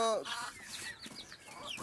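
Several native chickens eating wheat cluck and chirp close by in quick, uneven bursts, with a short squawk at the start.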